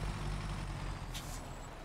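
A heavy truck reversing in the off-road driving game SnowRunner, a loud constant engine rumble with a brief hiss of air near the middle, no talk.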